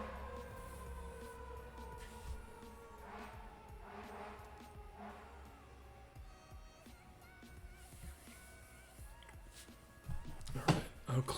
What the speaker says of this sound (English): Got some sirens going by.